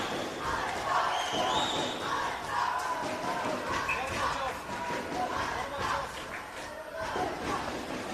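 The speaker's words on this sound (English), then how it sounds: "there's a hit that really got the Slovakian crowd going" A Slovakian crowd at an ice hockey game roars and cheers after a body check, with sustained loud crowd noise and excited shouting under a commentator's ongoing talk.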